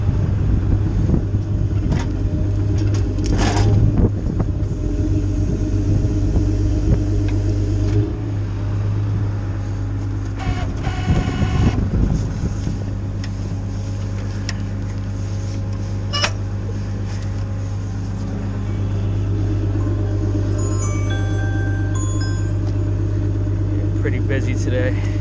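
A tow truck's boom drags a stuck Jeep Cherokee sideways out of a driveway: a steady loud engine rumble and low mechanical strain with scraping bursts, a voice talking over it at times.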